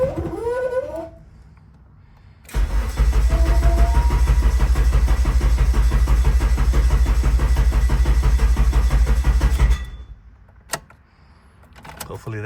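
A turbocharged Honda K24 engine in an AWD Integra build cranks over on its first start, a steady loud churning drone that runs about seven seconds before cutting off, with quieter mechanical sounds before and after.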